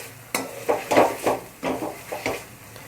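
A utensil mashes an onion-tomato pav bhaji masala in a pan, producing a series of close, uneven thuds and scraping knocks against the metal, about eight strokes in an irregular rhythm with a faint sizzle beneath.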